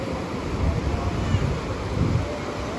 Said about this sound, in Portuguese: E apesar de ter bastante onda, porque essa é uma praia pra quem gosta de onda, o mar até tá calmo